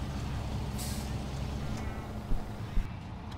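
A truck in Snowrunner idles with a low steady engine rumble while a pickup is unloaded from its bed, a hiss of air near the start and a couple of brief clunks toward the end.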